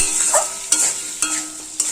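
Potatoes fry in hot oil in a pan over a low gas flame, a bright steady sizzle with a few sharp scrapes as a spatula stirs them, close and loud, with no voices.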